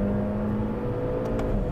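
A hot hatchback engine hums steadily under throttle at fairly low volume, as a continuous mid-pitched drone heard from inside the car with no voices.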